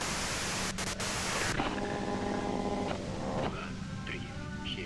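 Dense hiss of radio white noise in the game Disco Elysium, loud and continuous, giving way partway through to fainter static with thin tonal whistles and warbles beneath it.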